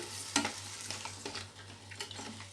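Crabs are stirred and mixed in a cooking pot for a village-style crab curry, with quiet, irregular scraping and soft sizzling strokes over a low steady hum.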